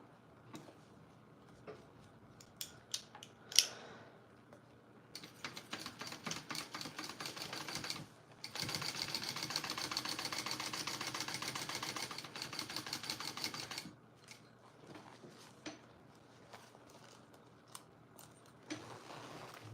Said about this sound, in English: I'm gonna sew that on, make sure my zipper's out of the way to start.